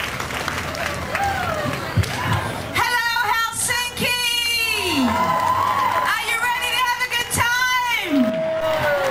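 Applause and cheers from an audience greet a guest singer at a samba carnival opening ceremony in Helsinki, with whoops and shouts rising over steady clapping and talk mixed through the crowd noise.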